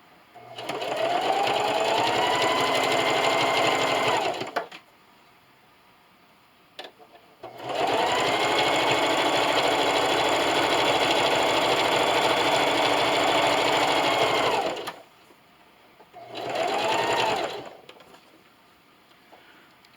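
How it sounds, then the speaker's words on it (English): A sewing machine stitches quilt binding on a quilted canning mat in three bursts, two long runs of about seven seconds and a short final one, each a fast, even mechanical whir with quiet pauses between. "And just keep sewing."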